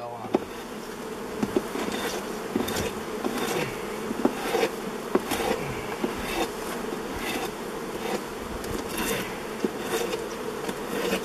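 Dense buzzing of many bees swarming around an old beehive left unopened for over thirty years, a steady close drone with sharp wingbeat flicks and light knocks throughout, no talking.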